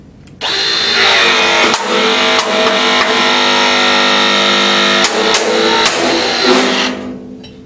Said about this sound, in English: mount your battery to the tool, turn the tool on, and make your punch